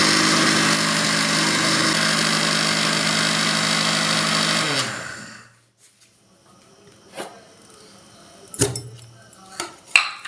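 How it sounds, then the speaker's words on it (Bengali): Mixer grinder grinding semolina into powder for an eggless cake, a loud steady motor whir that cuts off after about five seconds, followed by a few clattering knocks and taps of the jar. "আবার এই পাত্রের মধ্যেই আমরা সুজিটাও এইভাবে গুঁড়ো করে নেব"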